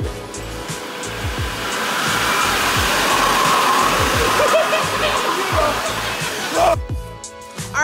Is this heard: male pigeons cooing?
no